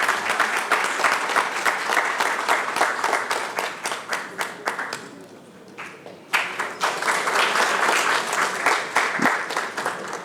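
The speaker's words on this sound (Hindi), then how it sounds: "जोरदार तालियों से स्वागत, जोरदार तालियों से स्वागत।" An audience at a book launch event applauds a visiting minister with sustained, dense clapping that dips briefly midway and then swells back to full strength.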